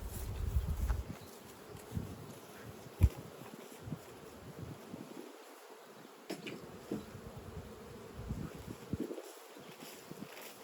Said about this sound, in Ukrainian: Вся бджола злітається в цей вулок